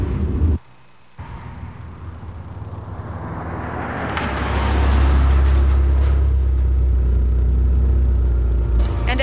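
A 1985 Pontiac Sunbird SE Turbo drives past and accelerates, building from a low rumble to a loud, close, sustained engine roar with heavy low-end throb.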